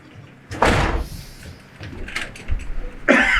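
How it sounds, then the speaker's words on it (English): Doors being broken in during a stage play of a Shakespeare tragedy: two loud bursts of crashing impact noise, one early and one near the end, with quieter clatter in between. "The doors are broke."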